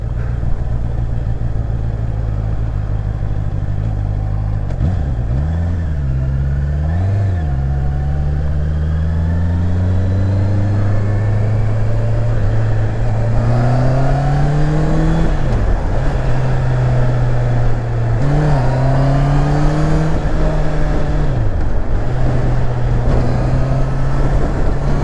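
A 2020 Honda CBR 650 R motorcycle engine revs up and down repeatedly on a road, pitch rising and falling through gear changes, loud and close with steady wind and road noise.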